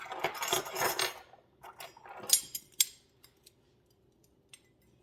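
Metal measuring spoons clink and jangle together while scooping baking soda for banana nut muffins, a busy metallic rattle followed by a few sparse, sharp clicks close by.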